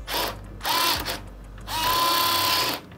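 A power screwdriver drives a screw to fasten a PC graphics card into a computer case, with two loud whirring bursts separated by a short pause, close up and with no one talking.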